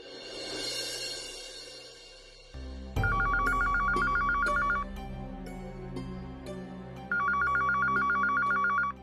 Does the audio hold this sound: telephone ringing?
yes